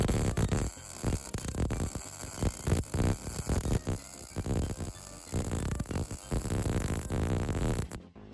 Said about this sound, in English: the weld sounded a bit more consistent